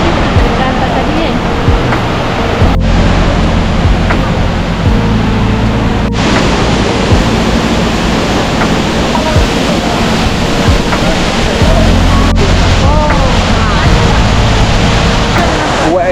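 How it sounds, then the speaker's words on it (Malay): Efrata waterfall near Lake Toba running strong and heavy after a night of rain: a loud, steady, continuous broadband roar of rushing water that never lets up. "Buat air terjun ni, dia cakap baru lepas hujan semalam, so air dia kuat."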